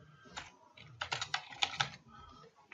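A username is typed on a computer keyboard in a quick run of soft, close key clicks, with a few lighter taps before and after the main burst.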